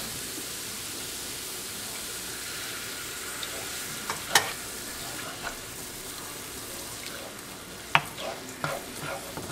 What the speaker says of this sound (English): even just cooking onions in this, it smells so amazing.